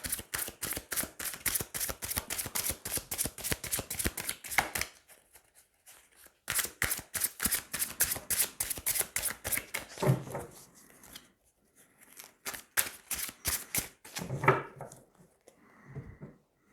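Tarot cards being shuffled for a reading, a close, rapid run of crisp riffling flicks, a pause, another long burst of riffling, then scattered softer card slaps and shuffles.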